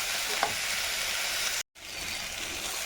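Sliced onions sizzle and fry in a pan for a Kerala-style roasted mushroom curry, a steady close hiss with one brief cut of silence midway.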